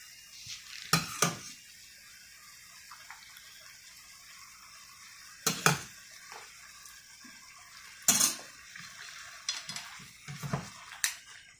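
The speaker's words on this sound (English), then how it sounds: "Got my red sauce already prepared. I'm going to hit it with this red sauce." Red sauce going into a pan of shrimp and mussels brings a few sharp clinks of utensils against the pan over a quiet background with a soft sizzle, the clatters spaced irregularly.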